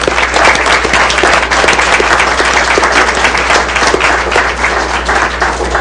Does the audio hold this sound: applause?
yes